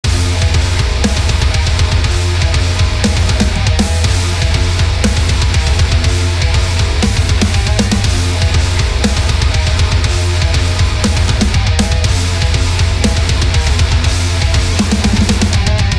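Heavy, low-tuned 8-string electric guitar riff with wide string skipping, played as dense, distorted metal with a full band, loud and constant throughout.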